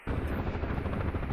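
UH-1H Huey utility helicopter in the DCS World flight simulator, with a steady, loud rotor thump and turbine roar running throughout.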